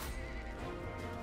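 A horse in the strategy video game Total War: Three Kingdoms lets out a single brief, loud whinny with a hint of hoof clatter, heard alone without any talk.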